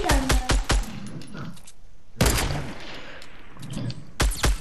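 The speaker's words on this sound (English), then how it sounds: "Mini gun." Minigun bursts in Fortnite, a cluster of rapid sharp shots at the start, a loud sustained burst in the middle, and another short volley at the end, with game ambience between.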